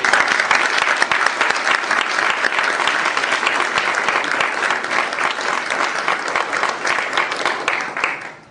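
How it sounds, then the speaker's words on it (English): A crowd at a bill signing for an Iraqi veterans license plate applauds Rusty, with steady dense clapping that fills the whole stretch at high, even loudness before tapering at the very end. "How about a round of applause for Rusty?"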